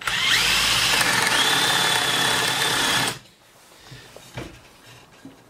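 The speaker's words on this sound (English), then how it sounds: "we're going to drill halfway through until the point comes through on the other side" A power drill whines loudly and steadily as a spade bit bores through wood for about three seconds, then stops, leaving faint handling clatter and small knocks.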